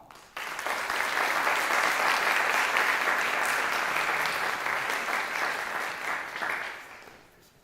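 Sustained applause from a conference audience welcoming an assemblymember to the stage, a dense, steady wash of clapping that swells quickly, holds for several seconds and then tapers off.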